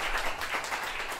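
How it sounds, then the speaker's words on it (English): A short, dense burst of audience clapping at a live comedy improv show, continuous and moderately loud throughout. "Bring on with applause."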